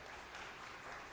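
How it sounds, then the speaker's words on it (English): Steady audience applause at a cultural gathering celebrating drums and identity, a continuous even wash of clapping with no talk over it. "An applause for our master,"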